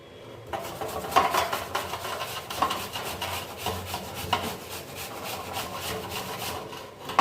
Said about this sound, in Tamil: தோலை சீவி வச்சு இந்த மாதிரி துருவுறது இருக்கு